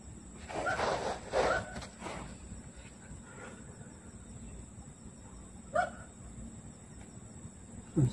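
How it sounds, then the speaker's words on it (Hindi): A dog barks a few times somewhere off in the distance, with short yelps near the start and one more later, set against a steady background hum and hiss. No voices are heard. "कुत्ता भी भौंक रहा है।"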